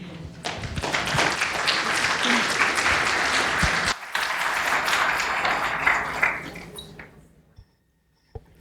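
A conference audience at an honors conference's opening remarks claps in a dense, sustained round of applause that thins and fades out near the end, leaving a few scattered final claps.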